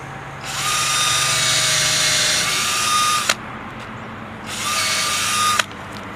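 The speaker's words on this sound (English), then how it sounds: "We're going to drill the hole." A power drill whines loudly in two bursts while boring a hole into a tree trunk, the first long and steady, then a pause and a shorter second run, ending with sharp clicks.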